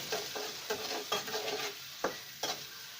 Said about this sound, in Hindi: प्याज को थोड़ा सा भून लेंगे अच्छे तरीके से